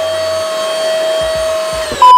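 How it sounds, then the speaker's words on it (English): A lightweight cordless vacuum cleaner running with a steady high-pitched motor whine and airflow hiss, close and fairly loud, the tone shifting abruptly near the end. "can you believe the size of this vacuum, the power that it has?"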